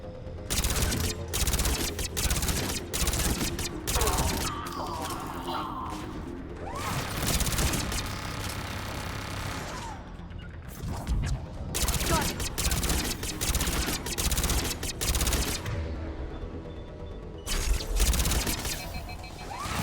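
Weapon fire in Mass Effect 3 Legendary Edition: dense bursts of rapid shots and crashing impacts running almost continuously, loud, mixed with game music and effects.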